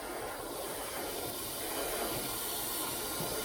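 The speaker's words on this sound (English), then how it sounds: "I've lowered the pressure down, so we'll see how well this sprays." A paint sprayer hisses steadily while spraying dark purple paint at lowered pressure onto a walking bait fishing lure, a faint, even airy rush with no breaks.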